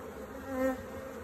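Steady, close buzzing of a queenless honeybee colony, a dense droning hum that swells briefly in the middle before settling back.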